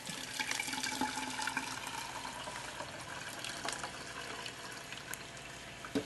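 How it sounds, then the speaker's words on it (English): Carrot juice poured through a cloth strainer held by a rubber band, a faint, continuous trickle and splash of liquid with small irregular drips, heard close and alone. "Pour it through."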